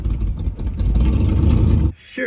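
A rough-running 1970 car engine fed by triple Holley carburetors churns loudly and unevenly up close, then cuts off abruptly near the end as a voice begins.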